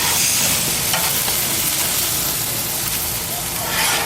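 Meat frying in a pan while being flipped, giving a steady close broadband sizzle with faint scraping and stirring under it and a slight swell near the end.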